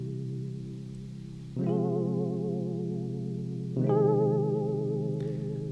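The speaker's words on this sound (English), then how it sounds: "we just get that nice wobble" A sustained synth-like tone in Ableton Live 11 pulses with a fast, warbling chorus wobble, with two abrupt note changes that make it swell louder.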